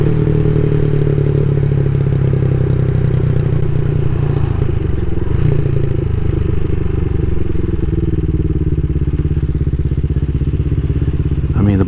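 A CSC SG250 motorcycle fitted with a MotoCult Stage 4 kit cruises along a local highway, its engine droning loudly and steadily under rushing wind noise, with no talking.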